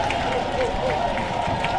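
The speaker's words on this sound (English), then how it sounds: "This crowd's been energetic all game long." Lively crowd noise from spectators at an NCAA softball regional elimination game between Stanford and Oregon in Eugene, a steady roar with scattered clapping, heard together with a commentator's voice.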